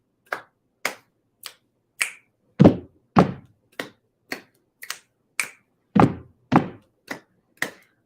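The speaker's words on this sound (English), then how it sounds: "pat, pat, clap, clap, snap, snap" Body percussion played in a steady rhythm, with close, crisp finger snaps and claps alternating with heavier, duller pats, about a dozen evenly spaced sharp hits with no talking.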